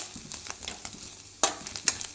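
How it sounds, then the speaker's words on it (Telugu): Egg frying in a pan for egg fried rice, a soft steady sizzle with scattered stirring scrapes and two brighter clacks of a utensil against the pan. "గోల్డెన్ బ్రౌన్ కలర్ వచ్చేంత వరకు మంచిగా ఇలా వేయించుకోవాలి."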